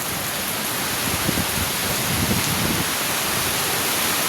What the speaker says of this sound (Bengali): প্রচুর বাতাসের সাথে বৃষ্টি হচ্ছে।